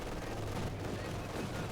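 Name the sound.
machine gun fire at MG42 crew, from video game Company of Heroes 2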